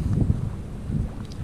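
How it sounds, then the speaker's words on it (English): Gusty pre-storm wind during a wind warning buffets the microphone outdoors while fishing, with a low, rumbling roar that swells and fades over a short moment. "It's also very windy."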